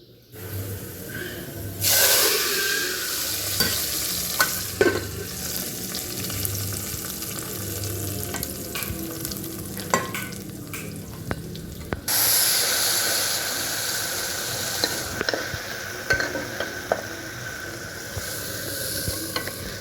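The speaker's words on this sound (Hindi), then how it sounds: "और ये देखिए जी यहाँ पे प्याज ब्राउन हो रहा है" Onions browning in hot oil for a tadka sizzle and hiss, a loud continuous frying crackle with occasional stirring clinks and pops, close up and without speech.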